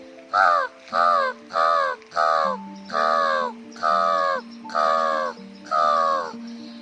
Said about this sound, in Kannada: ಬೆಳಗ್ಗೆ ಎದ್ದ ಕೂಡಲೇ ಸ್ವಲ್ಪ ಕಾಗೆಗಳು ಕೂಗೋದು ಕೇಳ್ತು